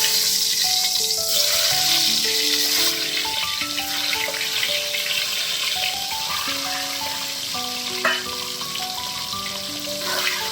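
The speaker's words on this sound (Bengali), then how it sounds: "তেল কিন্তু বেশ গরম হয়ে এসছে। এবার আমি আস্তে আস্তে ডিমগুলো ছেড়ে দেব এর মধ্যে।" Eggs frying in very hot oil give off a loud, steady sizzle all the way through, while a melody of sustained tones plays softly under it.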